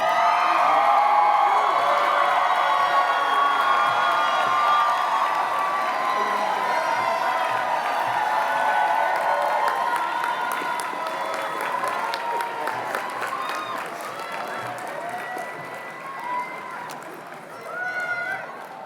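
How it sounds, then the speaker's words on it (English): A large graduation crowd applauds and cheers, with whoops and shouts rising over sustained clapping that slowly thins out while voices carry throughout. "Let's have one more round of applause for all 608 graduates."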